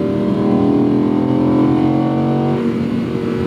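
A 2018 Audi R8 V10 Plus Spyder engine revving hard toward redline, a loud, sustained close-up roar with steady harmonic whine that holds through the run and eases slightly near the end.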